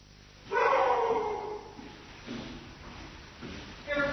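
A dog gives a brief, fairly loud bark with a whimpering edge close by, then a few fainter yips follow while people talk nearby.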